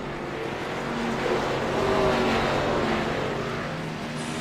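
Stock cars in the Xfinity race at Martinsville roar around the track, a dense, steady blend of engine drone from several cars without distinct passes or voices.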